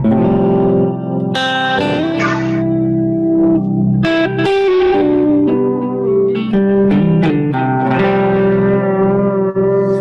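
Electric guitar played through a GFI System Tempest effects pedal, distorted and shimmering with chorus and echo, loud and continuous with sustained chords and picked notes.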